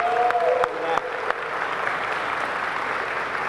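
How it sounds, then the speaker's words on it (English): A town hall audience in Cleveland claps for a ten-year-old girl after her question, a steady mid-volume wash of applause with a couple of sharper claps near the start. "Give her a big round of applause."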